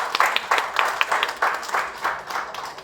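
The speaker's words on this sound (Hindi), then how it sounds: "आप जोरदार तालियां प्लीज दिए" Sparse, uneven clapping from an audience at a tribute trailer event for the film Border 2, a handful of separate claps rising and falling in loose bursts at moderate distance, with no talk over it.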